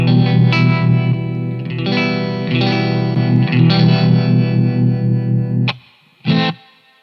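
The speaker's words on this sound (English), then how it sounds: "So really, really lovely tremolo sound" An electric guitar played through a tremolo effect with transformer saturation and a fair amount of drive rings out in loud, sustained, overdriven chords that cut off abruptly near the end, followed by one short final strum.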